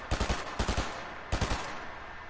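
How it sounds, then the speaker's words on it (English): Gunfire in Fortnite, three quick bursts of about three sharp, close shots each, spaced roughly half a second apart, followed by a fading tail. "I'm gonna keep firing too, gang."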